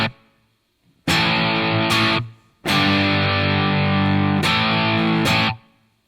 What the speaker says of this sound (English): From there, I'm going to add the Studio Devil virtual guitar amp.